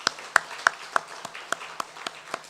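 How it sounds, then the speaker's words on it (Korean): A church congregation claps in a sparse, uneven rhythm, roughly a dozen distinct claps spread over a couple of seconds, moderately close in a quiet room. "박수로 서로 한번 환영하는 시간 가졌으면 좋겠습니다."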